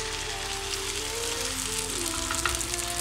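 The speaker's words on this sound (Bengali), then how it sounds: "আর নাড়ার সময় কিন্তু আমি একদম তলা থেকে নাড়ছি" Kashmiri mutton pulao rice stirred from the bottom of a pot, a soft steady sizzle with faint scraping, close and quiet, no voices.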